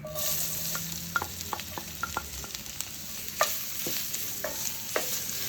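Onion hitting hot oil with toasted cumin seed, a soft steady sizzle under a run of sharp spoon taps and scrapes against the pan, close and moderately loud, no talking.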